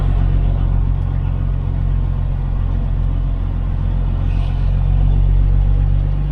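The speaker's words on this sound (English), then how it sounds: "we'll just keep driving around the parking lot." Dirty truck rolling slowly around a parking lot in North Carolina, a steady low engine rumble and road noise continuing close and unbroken, with no voices over it.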